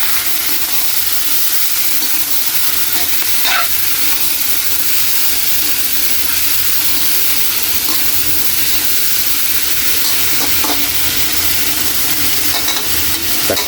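Pork for paksiw fries in a pan with a steady, loud sizzle and hiss throughout, broken by a few scraping clinks of a utensil stirring the meat.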